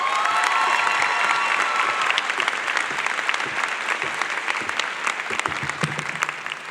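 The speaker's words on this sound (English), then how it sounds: "Give her a round of applause." Audience at a medical college white coat ceremony gives a sustained round of applause, even and crowded clapping echoing through the hall with faint cheering at moments.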